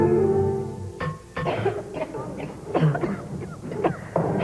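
Women in a cough syrup commercial cough repeatedly, with harsh, chesty bursts in an uneven rhythm, close and loud, with some throat clearing between coughs and no clear speech.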